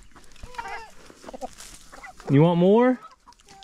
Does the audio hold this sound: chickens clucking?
yes